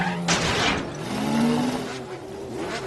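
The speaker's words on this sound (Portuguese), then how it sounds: "Os motores estão esquentando!" Cartoon race cars line up at the start of a track race, engines revving in a Woody Woodpecker episode: buzzy, rising and falling motor whines overlap for a few seconds at moderate loudness, with no talking.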